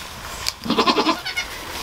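A goat in labor bleats during a birth, giving a single loud, pulsing, wavering cry up close, with a short strained call before it and no talk.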